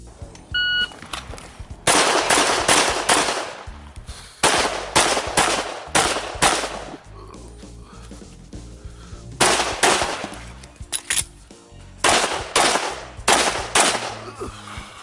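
Pistol fire at an IDPA shooting match: loud, sharp shots in rapid strings and pairs with short pauses between bursts, plus a brief electronic beep from the start timer.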